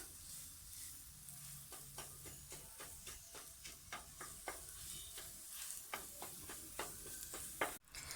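An egg fries in a pan with a soft, continuous sizzle, broken by repeated scraping stirs from a utensil, heard quietly and up close.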